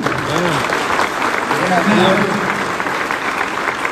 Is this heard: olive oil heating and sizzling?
no